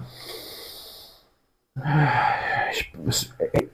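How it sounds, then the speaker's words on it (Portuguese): A person demonstrates a breathing exercise, a long audible inhale through the nose, a brief pause, then a forceful breath out through the mouth, close and clear, ending in a few short breathy sounds. "Inspira pelo nariz e expira pela boca, solta pela boca."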